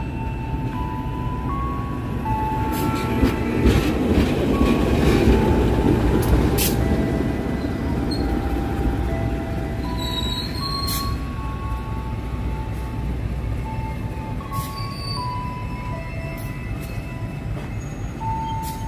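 A train and an SH locomotive wait at an Indonesian station before coupling. Steady rumbling and hissing of rail equipment fill the air, with sustained mechanical tones and scattered metallic squeals throughout, and nobody talking.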